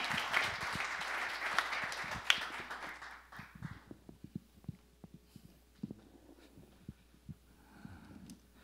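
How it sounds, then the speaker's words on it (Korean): Applause from a church gathering welcoming a pastor, fuller at the start and then dwindling into scattered claps and light taps over several seconds. "우리 큰 박수로 우리 정영 목사님 모시도록 하겠습니다."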